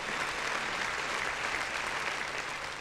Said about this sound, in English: Round of motherfucking applause.